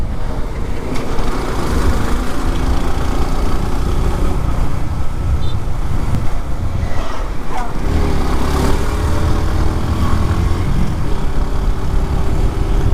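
A 150cc motorcycle rides along a road, its engine droning steadily amid rushing wind and traffic noise, with a few louder surges and passing-vehicle swells along the way.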